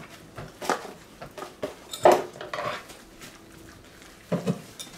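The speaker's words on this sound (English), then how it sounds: "add brownie mixture and stir until blended" Brownie mix being stirred into batter in a mixing bowl, heard as scattered clinks and scrapes of a utensil against the dish, moderately close with uneven rhythm and quiet pauses between strokes.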